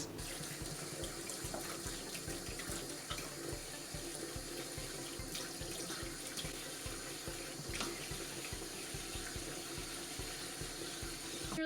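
A tap runs steadily into a sink while Lego parts are cleaned, a constant splashing, bubbling stream at moderate distance with faint clatter of pieces and no talking.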